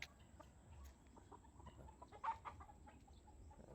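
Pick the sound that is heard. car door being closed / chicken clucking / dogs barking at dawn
chicken clucking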